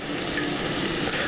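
Chicken or turkey stock poured slowly from a measuring cup into a pan of flour for turkey gravy, a steady close splashing trickle lasting about a second with no talk.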